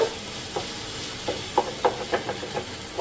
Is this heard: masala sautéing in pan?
yes